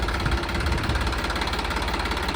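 A tractor engine runs steadily at close range, a continuous low throbbing rumble with a rhythmic knocking pulse and no speech over it.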